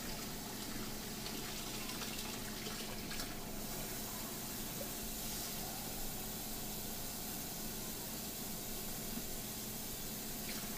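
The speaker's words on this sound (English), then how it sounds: "we're going to get 4 cups of water into this pot" Hot tap water pours steadily into a cooking pot for pasta in a teaching kitchen, a continuous broadband gush with no pauses, moderately loud and close, with no talking.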